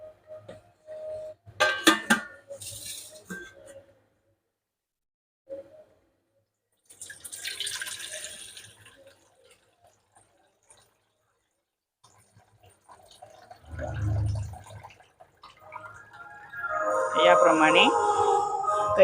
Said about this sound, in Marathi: याप्रमाणे कैरीच्या फोडींमधलं पाणी काढून घ्यायचं.